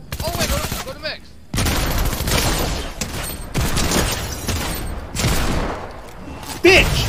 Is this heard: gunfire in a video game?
yes